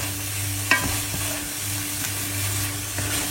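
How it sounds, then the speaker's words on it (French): A pan of shrimp sauce with scrambled egg is stirred, giving a steady sizzle with occasional clinks and scrapes of the utensil. "Je vais venir mélanger le tout."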